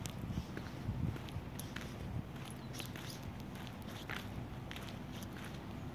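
Footsteps walking along a quiet path on the Davutpaşa university campus, a soft irregular patter of steps close by over faint outdoor ambience.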